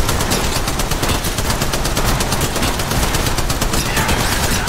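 The Spitfire light machine gun in Apex Legends Mobile fires a long, unbroken automatic burst, rapid loud shots in a dense, steady rhythm with no voices over it.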